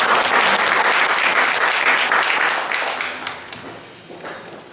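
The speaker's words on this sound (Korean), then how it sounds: "우리 찬양팀에게 한번 격려의 박수 한번 드리겠습니다" Loud church congregation applause for the worship team, dense clapping that fades gradually toward the end.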